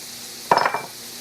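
A spoon stirs onion powder, salt and pepper through roast beef sandwich ingredients in a pan, making a short burst of scraping and sizzling that lasts about a third of a second before fading.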